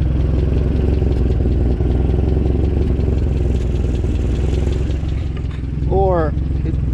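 An old, roughly 50-year-old Land Rover Defender engine with an exhaust pipe punctured by a branch idles with a loud, steady clattering rumble, and a voice speaks briefly over it near the end.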